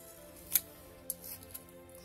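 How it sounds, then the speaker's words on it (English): Scissors cut paper for a collage in a glue book, making a few faint, crisp snips spaced apart in an otherwise quiet room. "Maybe I'll cut a little bit of this off."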